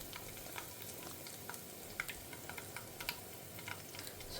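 Mustard seeds splutter in hot oil during tempering, a faint steady frying hiss dotted with small irregular pops and crackles, with no talking.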